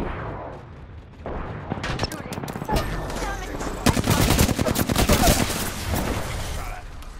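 Apex Legends gunfire: rapid bursts of automatic weapons rattling close and loud, building into dense sustained shooting with a voice speaking over it.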